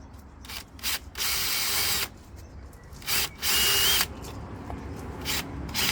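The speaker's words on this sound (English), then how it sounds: "That's a big drill bit." A power drill with a large 8 mm bit boring through wood for a bed frame in a van conversion, in several loud whirring bursts of a second or so separated by quieter pauses.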